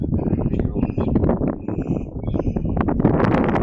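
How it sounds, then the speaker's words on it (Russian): Wind buffets a microphone outdoors, a dense, steady low rumble of gusts running through the whole stretch with no let-up and no speech over it. "Тебя плохо слышно будет, ветер дует."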